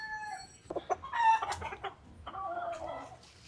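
A chicken clucks and squawks in a few short bursts, fairly close, with rooster-like calls mixed in and no talking.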